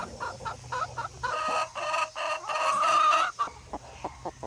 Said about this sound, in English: So that is basically a broody hen.